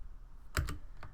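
Typing on a computer keyboard: two quick close key clicks followed by a single fainter tap, over a quiet room hum.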